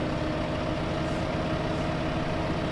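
Steady low idling rumble of a small tractor engine in Farming Simulator 2015, pulling a trailer on a farm, continuous and close with no talk.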